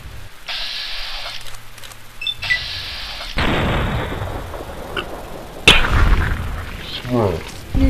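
Gunfire and explosions in the video game Fallout: New Vegas, a series of loud booming blasts and sharp shots with rumbling decays, mixed with game sound effects and someone talking over them.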